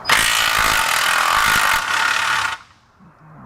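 Hand wrench loosening an 18 mm nut on a Can-Am sway bar link while a 21 mm wrench holds the shaft: a close, continuous harsh metallic ratcheting rasp for about two and a half seconds, then quiet.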